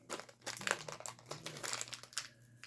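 Plastic parts bag for a Dead Bolt 4-link and front-end extension kit crinkles as it is cut open with scissors, a close, busy run of crackles and rustles lasting a few seconds.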